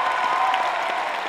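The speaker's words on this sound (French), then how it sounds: "Je vous demande de tous les applaudir encore une fois." A cosplay event audience at Polymanga Global Easter 2017 gives dense, sustained applause, with a crowd clapping loudly and evenly throughout and faint cheering mixed in.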